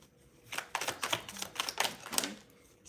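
A deck of tarot cards is shuffled close up, a rapid run of crisp riffling clicks and flutters in uneven bursts, with no talking.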